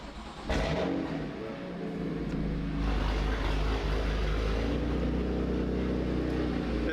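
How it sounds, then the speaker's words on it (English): Car fitted with a Grail exhaust starting up, the engine catching with a sharp burst and then settling into a deep, loud, rumbling idle with a rise in revs partway through, heard close up. "This Grail exhaust sounds so good."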